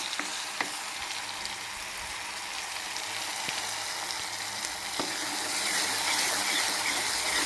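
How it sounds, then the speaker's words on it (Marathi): Masala spices roasting in hot oil for a potato rassa curry give a steady close sizzle and crackle with occasional stirring scrapes, growing slightly louder toward the end. "आता आपण यामध्ये हा मसाला भाजून घ्यायचा आहे"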